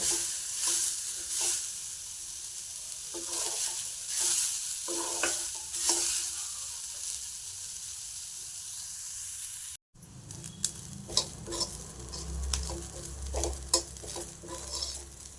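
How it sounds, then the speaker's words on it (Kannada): Ivy gourd frying and being stirred in a pan, with steady sizzling broken by repeated scraping stirs. There is a brief cut, after which the sizzle carries on with louder stirring. "ಗೋರಿಕಾಯಿ ಫುಲ್ಲು ಕೆಂಪು ಬಣ್ಣ ಬರೋವರೆಗೂ ಫ್ರೈ ಮಾಡ್ಕೊಳ್ಳಿ"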